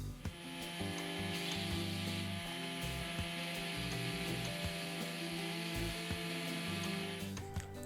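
A Dedra DED7063 oscillating mouse-type electric sander runs continuously, giving a steady, close, even mechanical hum and buzz with a constant tone and no pauses over the whole stretch.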